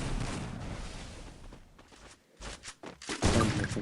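Shotgun blasts in a video game come as several loud, booming bursts in quick succession, mixed with busy in-game noise and a brief quieter gap in the middle.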